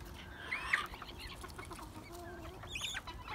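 A rooster clucks in an outdoor poultry pen with other fowl, giving a few short, moderately loud calls over a low, steady farmyard background.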